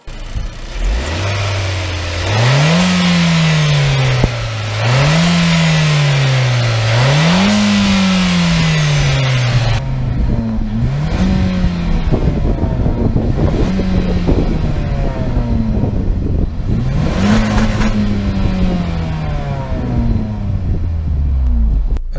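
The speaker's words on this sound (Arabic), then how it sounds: "الان جرب لكم السياره في التسارع بالوضعيه الرياضيه." A 2017 Renault Talisman with a 1.6 turbo engine pulls hard in sport mode, its engine note climbing and dropping through several upshifts, then rising in shorter bursts, loud and close, with wind noise and no talk.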